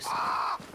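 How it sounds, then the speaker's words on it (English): Crows caw in the game Banishers: Ghosts of New Eden, a loud harsh call held for about half a second, followed by a brief, fainter trailing caw. "Crows."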